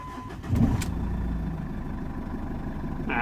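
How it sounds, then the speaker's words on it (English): Jeep Cherokee engine with a slightly low battery cranks briefly and catches, then settles into a steady idle, close and fairly loud throughout. "Let's start the car."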